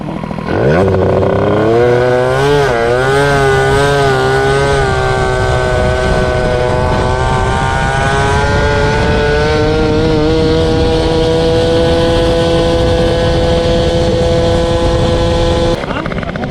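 A Peugeot 103 moped fitted with a Polini kit revs loudly and close, its buzzing two-stroke pitch rising and wavering before holding high and cutting off at the end.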